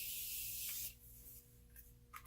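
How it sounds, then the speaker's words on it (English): A Morphe setting spray mists onto a face in one close, loud hissing burst lasting under a second, followed by quiet rustling and faint handling sounds. "So now I'm going to set my face with my Morphe setting spray."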